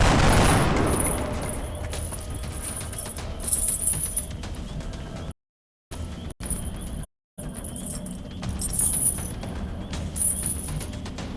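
Gunfire in the strategy game XCOM Enemy Within, bursts of shots and booms over a dense, busy game mix, loud and close, with brief drops to silence.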